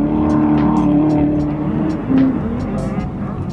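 A car drifts on a track on Zeknova rear tires, its engine droning loud and steady with slight shifts in pitch under faint tire noise, heard close and without a break.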